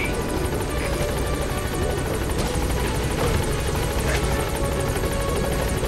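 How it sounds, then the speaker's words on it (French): A helicopter's rotor chops steadily and loudly throughout, a continuous whirring thud with no speech. "on va rappeler l'hélicoptère"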